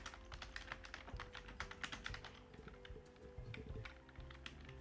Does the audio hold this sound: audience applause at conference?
no